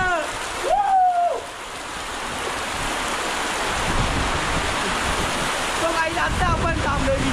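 A monsoon waterfall at Visapur fort roars continuously and loudly nearby, a thick rushing wash with a few brief higher tones rising above it near the start and end.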